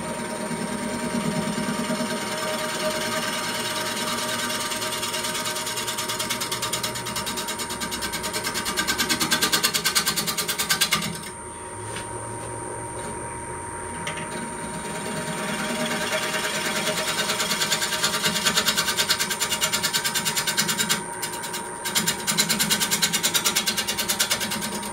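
Wood lathe running at a reduced belt speed while making jam chucks, a steady mechanical hum with a faint rhythmic whir and occasional brief scraping and handling noises.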